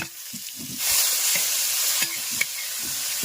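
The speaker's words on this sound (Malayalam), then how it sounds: "അപ്പൊ അതിന്റെ കൂടെ നമ്മുടെ തക്കാളി അരിഞ്ഞതും കൂടി അങ്ങ് ചേർത്ത് കൊടുത്തിട്ട് ഇനി ഇളക്കാൻ പോവാണ്." Onions and chopped tomato frying in a pan for a catering-style beef curry, with a steady loud sizzle and the intermittent scrape and clatter of stirring.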